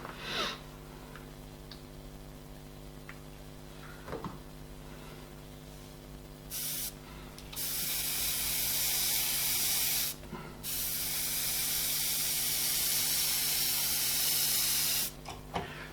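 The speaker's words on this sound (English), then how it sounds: "just keeping it as a light mist." An airbrush sprays a light mist of paint on an eye painting in several bursts of loud, airy hissing, separated by brief pauses and soft ticks, against a faint steady hum.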